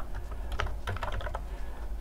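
Rapid keystrokes clatter on a computer keyboard while JavaScript code is typed, a quick uneven run of clicks close to the mic over a low steady hum, with no voices.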